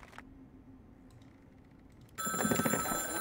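A telephone bell in the video game Tick Tock bursts into loud, continuous ringing after near-silence and a few soft clicks, sounding bright and metallic to the end.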